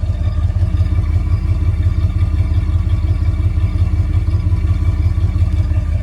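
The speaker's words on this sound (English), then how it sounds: "You gotta love the sound of a big block at night." 1972 Chrysler Imperial with a Chrysler 440 big-block V8 idling outdoors at night, a loud, close, steady low rumble with a rhythmic lope and light mechanical clatter, no talking.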